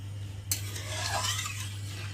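A spoon stirs dalia khichdi in a pot, a soft scraping swirl under a low steady hum, with one sharper clink near the start.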